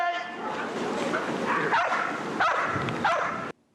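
Police service dogs bark and yip repeatedly in quick, loud bursts at close range, with voices mixed in, before the sound cuts off abruptly.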